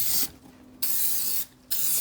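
An aerosol can sprays sealant over a vinyl stencil sign indoors: two long, close hissing bursts separated by a brief pause, loud and airy with nothing else audible.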